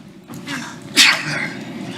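A single sharp sneeze bursts out close by against a low room hum during a county commissioners meeting, with faint murmuring before it.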